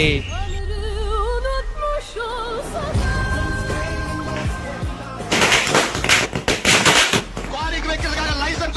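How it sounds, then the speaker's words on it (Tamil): Crackling firecracker bursts pop rapidly in a loud cluster during Deepavali celebrations after a stretch of music and chatter, with voices continuing around them. "இந்த பால் பேச மாட்டான், பட்டாசு தான் பேசும்"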